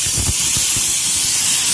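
Loud continuous hiss of steam escaping from a pressure cooker whistle while chicken curry cooks, close and steady, with faint low knocking underneath.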